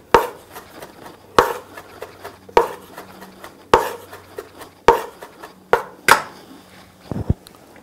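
Fresh rosemary chopped with a knife on a board, seven or eight crisp, evenly spaced knocks close by, with faint rustling between strikes and no speech.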